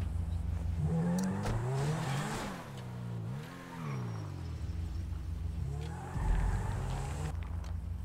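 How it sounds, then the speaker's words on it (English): Ferrari sports car in the GTA 5 video game, engine revving and surging up and down as it accelerates and shifts gears, loud and close with a few rising and falling sweeps. "it was just good just to be able to drive actual manufactured cars like the Ferrari here"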